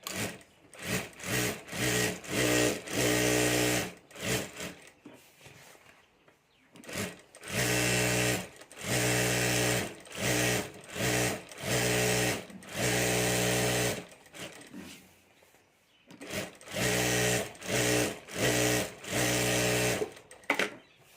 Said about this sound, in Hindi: तो पहले अब हमें यहाँ सिलाई कर लेनी है।